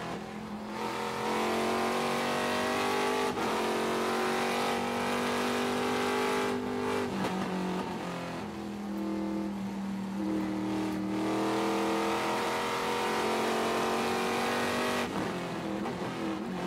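Trans Am race cars at Sonoma Raceway accelerating hard, a loud, sustained engine roar rising in pitch through the gears, with brief drops at upshifts and a continuous blare of multiple cars on track.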